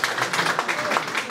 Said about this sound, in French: non, pas besoin d'applaudir